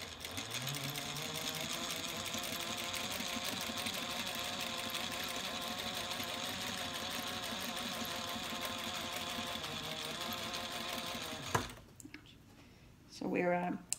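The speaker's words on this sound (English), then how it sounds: "just sewing along, enjoying the process." Close and steady, a sewing machine hums while quilting handbag exterior panels, running continuously for about eleven seconds before stopping, followed by brief quieter handling sounds.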